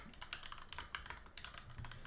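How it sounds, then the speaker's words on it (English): A noisy computer keyboard clatters under rapid typing, with irregular bursts of sharp clicking keystrokes up close and no one speaking. "I know my keyboard is really noisy"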